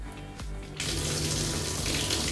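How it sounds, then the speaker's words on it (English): Water gushes steadily from waterfall-style external bathtub taps beside a floating bathtub in a luxury mansion bathroom, close and loud, after a moment of quieter background sound. "are your taps, giving it that waterfall effect"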